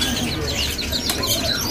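Papuan butcherbird at a bird market, bright chirping and whistling notes over a dense backdrop of other caged birds, with clucking fowl and general market bustle close around.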